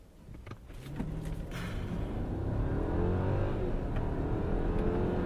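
A 2015 Mercedes S550 4MATIC in sport mode launches hard, its engine note climbing and rising in pitch as the car pulls steadily, loud and close from the cabin with no talk.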